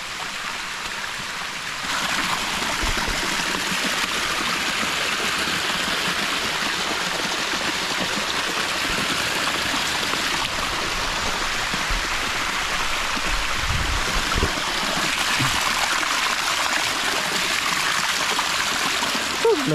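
Steady broadband rush of water from a natural waterfall and flowing stream, constant and fairly loud throughout, with faint voices now and then underneath.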